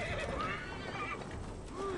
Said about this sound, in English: Oh no, the horses!